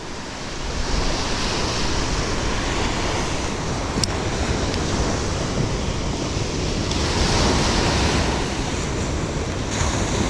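Frothy surf waves break continuously on a beach at a sandbar drop-off, a steady loud roar of wash with heavy wind noise across the microphone.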